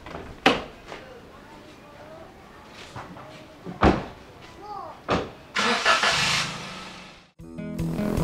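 Car sounds come from inside the vehicle, with door thumps and slams, then a starter whine and an engine catching and running near the end, alongside a few voices.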